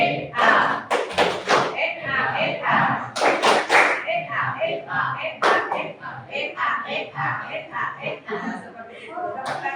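A group at an Indonesian training session performs a patterned clap routine, bursts of sharp unison claps alternating with voices chanting and speaking, the rhythm broken into short clustered sets.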